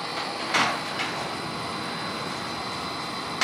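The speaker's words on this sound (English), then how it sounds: "can you hear that wind?" Wind shakes a garage door, giving a steady, broad roaring rush. A couple of brief rattling surges stand out early on, with no talking.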